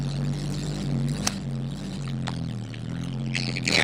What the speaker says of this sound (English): And you can hear the exhaust. It has depth to it. It sounds real deep.